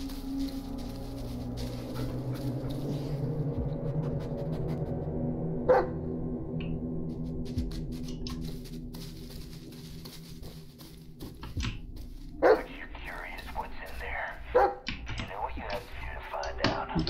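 Bullet, the dog in the Blair Witch video game, gives a few sharp barks over a low ambient game drone, with footsteps and soft tapping around them and a player talking at times.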